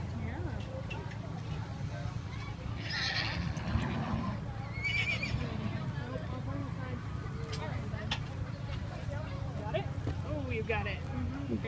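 A pony neighs at the Deschutes County Fair in 2017. Whinnies rise over a busy outdoor background with faint hoof clip-clops, and people talk throughout.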